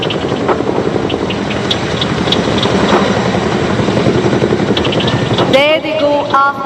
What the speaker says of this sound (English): ये दोनों Chinook helicopter आपको अलविदा कह रहे हैं।